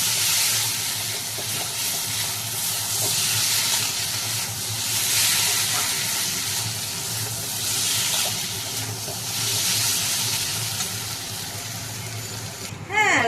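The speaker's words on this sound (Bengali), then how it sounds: "এখন ভালোভাবে নেড়ে নিচ্ছি আলুটা মশলা দিয়ে।" Potatoes with spices are stirred in a pan, a loud hissing sizzle that swells and eases in waves as the mixture is turned, with a sharp noise at the very end.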